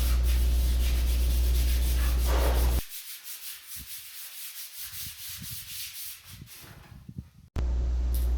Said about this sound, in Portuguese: Ele passou a massa corrida e agora ele está lixando.